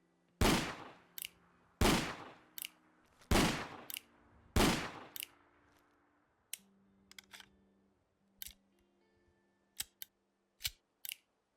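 A snub-nosed revolver pistol fires in Fallout 4: four loud, sharp shots ring out about a second apart, each with a quick decaying tail, followed by a run of softer, scattered mechanical clicks.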